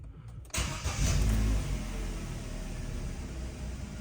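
A limited edition Vauxhall Astra J being rebuilt fires up with a sharp crank, briefly revs loudly, then drops into a steady idle close to the microphone.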